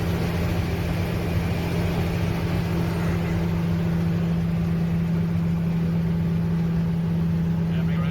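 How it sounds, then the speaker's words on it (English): An Australian road train's diesel truck engine hums with a steady low drone and a constant tone from inside the cab. It runs unbroken and fairly loud throughout. "Hear that engine just hum."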